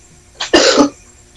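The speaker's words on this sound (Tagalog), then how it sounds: "Ay, may umubo." A single short cough sounds near and fairly loud, a quick throaty burst against a quiet background.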